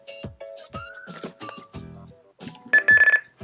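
A FOX Mr+ fishing bite alarm, switched to another tone setting, sounds a series of short electronic beeps and warbles, ending in a louder rapid trill of pulses, close and otherwise quiet.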